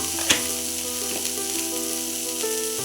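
Ginger paste and turmeric powder sizzle steadily in hot oil, with a scrape or two of a spoon as it is stirred. The frying hiss is close and continuous, and no one speaks.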